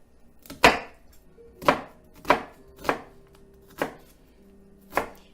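A knife chops an onion on a board while a beef and pork ragù sauce is prepared. Six sharp, separate chops ring out up close at uneven intervals, with no talking.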